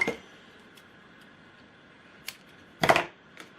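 In a quiet room, scissors give a single brisk snip through red adhesive tape, preceded and followed by a few faint clicks and handling taps.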